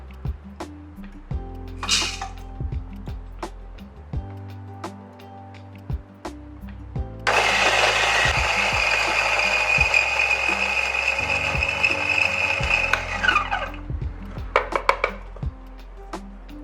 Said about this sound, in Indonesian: ini biji kopinya kita giling terlebih dahulu